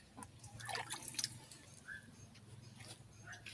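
Water trickles and drips softly as vegetable plants in a school garden plot are watered after planting, a faint, close, wet patter with no voices.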